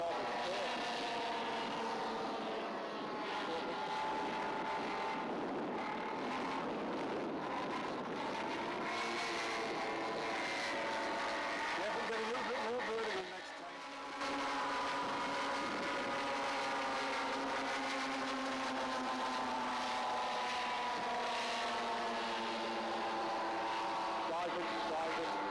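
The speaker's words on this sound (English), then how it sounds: "The last big test for the aircraft was some high G pullouts" A radio-controlled B-17 model aircraft pulling out of dives under high G, its engines a continuous droning hum that swells and shifts in pitch, briefly dipping before settling to a steadier tone.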